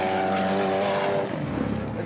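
A 700 hp rear-mounted V8 dune racing car revs in the desert at Liwa, Abu Dhabi, giving a loud, steady engine drone with strong harmonics that drops off toward the end.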